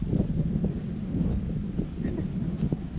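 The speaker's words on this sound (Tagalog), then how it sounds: "Sarap na ng simoy ng hangin." A steady low rush of wind buffets the microphone outdoors near a nipa hut garden, continuous and fairly loud, with faint indistinct sounds underneath.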